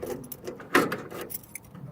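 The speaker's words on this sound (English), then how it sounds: "if I can get my keys together" A bunch of keys jangles close by, near a 1971 Chevy Nova racecar, in a few brief metallic rattles with a sharper clink in the middle, no voices.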